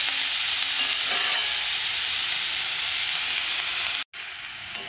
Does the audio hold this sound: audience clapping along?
no